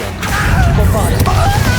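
Bombarda spell blast in Hogwarts Legacy, a sharp crashing impact with a whooshing smash and rattle of debris, mixed with a voice speaking over it.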